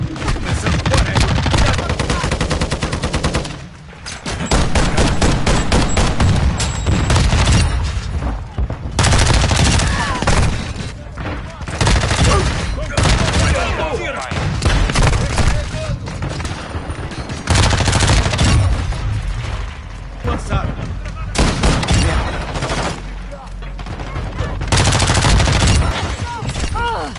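Near-constant heavy gunfire in Call of Duty: Modern Warfare II on the Shipment map, rapid bursts and overlapping shots, loud and dense with only brief pauses, an intense firefight.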